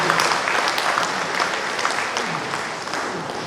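An audience at an anti-poverty summit in Misamis Occidental applauds for the DSWD, a steady crowd of clapping hands that holds at an even level before easing slightly.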